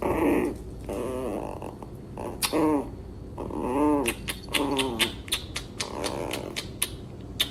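A large German Shepherd dog growls and whines in a string of throaty, rising vocal bursts, followed by rapid sharp clicks and taps, close and fairly loud.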